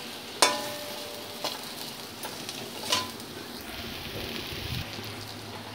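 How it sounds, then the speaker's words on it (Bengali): Fried potatoes with cumin and poppy seeds being stirred in a pan, a soft steady sizzle broken by a few sharp scrapes and clinks of the spatula against the pan, with no talk. "চিনিটা দেওয়ার পরে এক মিনিট মতন আমি নেড়ে চেড়ে নেব যাতে চিনিটা গলে যায়।"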